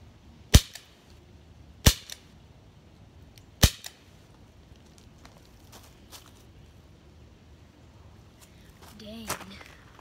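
A BB gun fires three sharp, loud cracks at a pumpkin, spaced about a second or two apart, followed by quieter handling noise and a brief voice.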